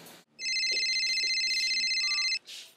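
A phone ringtone hidden inside a pop bottle, a bright electronic ring that sounds steadily for about two seconds and then cuts off, with faint rustling before and after.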